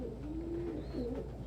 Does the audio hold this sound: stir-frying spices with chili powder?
no